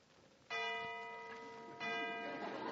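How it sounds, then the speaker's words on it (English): A school bell rings in a radio drama, two bright, sustained metallic rings with a short gap between them, heard faintly and alone. "There's the last bell."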